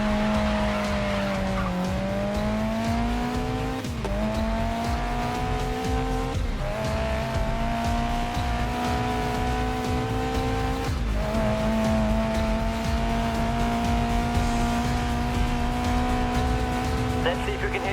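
In the Grid Legends racing game, a race car's engine drones loudly and steadily, its pitch dipping and climbing through repeated gear shifts as the car slides under handbrake, with a voice talking over it.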